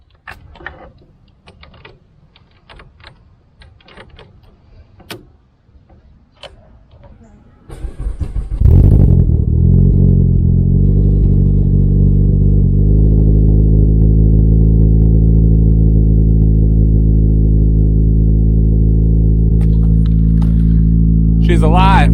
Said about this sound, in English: Let's try to jump this car.